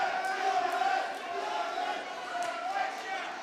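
Crowd at a GTFP13 fight event, Andy Yates versus Ryan Hewitt, roaring and cheering at a steady, moderate level beneath a commentator's voice.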